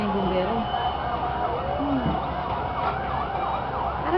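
A fire truck siren wails at a distance as it arrives at a fire in Rawis, with its rising and falling tone heard faintly beneath people talking nearby.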